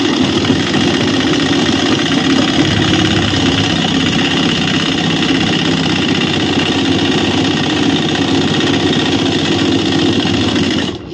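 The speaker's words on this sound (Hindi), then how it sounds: "अब यहाँ से जो भी आपके स्लिप्स का मुंह हो उतना सिलाई लगा दें।" A sewing machine stitches a ladies' suit with a steady, continuous mechanical whir that runs loud and unbroken for about eleven seconds, then stops abruptly at the end, with no talking.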